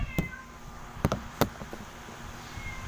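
A cat meows a few times in short, close calls with quiet gaps between them, and no one speaks.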